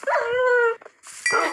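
Tamed wolves in Minecraft give two sharp, whining yelps in quick succession, loud and close, with no talking over them.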